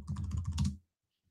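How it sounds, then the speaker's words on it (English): Rapid typing on a computer keyboard, a quick close burst of clicking keystrokes that stops abruptly into silence. "I hate typing live"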